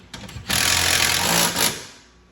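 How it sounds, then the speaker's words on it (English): A power tool tightens the steering bolts on a Polaris Ranger 900 with a loud buzzing whir that lasts about a second, preceded by a couple of short taps, then spins down and fades. "try to line your steering up straight and tighten this up"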